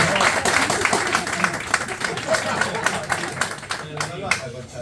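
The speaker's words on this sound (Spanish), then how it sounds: "Un aplauso para Diego." Applause for Diego during a first-aid training session: a small group clapping steadily at close range, with voices talking over the claps throughout.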